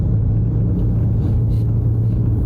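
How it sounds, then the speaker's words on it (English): Cars drive along a town road in Grenada toward St. George's, heard from inside a moving vehicle as a steady, loud engine and road rumble with a faint passing swell midway and no talking. "And now we see some traffic, increasing traffic"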